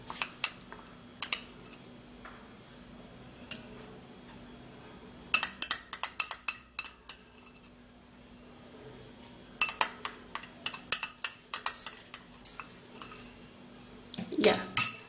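A spoon scrapes settled starch off a plate, producing bursts of close metallic scraping and clinking separated by quiet stretches, with no talking.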